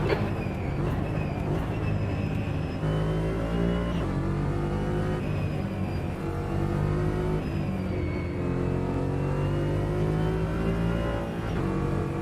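A GT4 race car engine in a racing simulator game revs steadily and climbs through the gears, a loud, continuous, buzzing drone with no voices.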